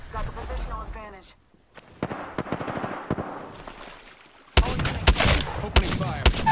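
Shots ring out in an Apex Legends match, first scattered single cracks under a spoken callout, then a sustained, loud burst of rapid automatic fire near the end.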